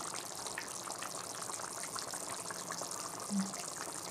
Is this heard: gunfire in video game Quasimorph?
no